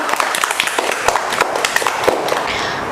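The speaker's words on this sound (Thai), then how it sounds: "ขอเสียงปรบมือให้เพื่อนๆหน่อย" A classroom of pupils claps for classmates, with brisk, uneven hand claps filling a short burst at steady loudness.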